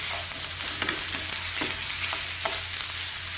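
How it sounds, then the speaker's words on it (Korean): Royal tteokbokki rice cakes stir-fried with minced meat in oil in a Korean cooking class, a steady close sizzle with occasional soft scrapes of a utensil stirring the pan. "살살살 떼어가면서 볶아줍니다."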